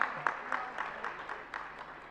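An audience at a Jain religious discourse claps in unison, a rhythmic beat of crisp group claps about four per second over a low hall murmur.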